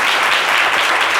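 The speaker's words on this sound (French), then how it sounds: "On va l'applaudir pour l'encourager." A studio audience at a comedy show bursts into brief encouraging applause, dense and loud with many hands clapping at once and no voices.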